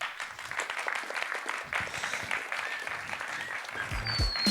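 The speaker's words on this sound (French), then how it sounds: "On peut les applaudir." Audience applause at a French talk on anime and manga production: steady, dense clapping carrying evenly throughout, moderately loud, with no speech over it.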